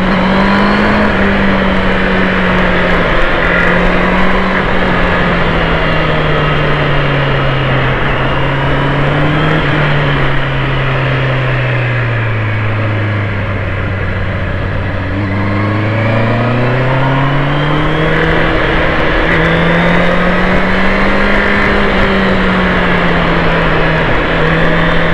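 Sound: motorcycle engine accelerating after gear shift

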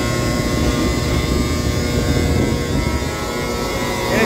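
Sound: blower on a horizontal cement silo

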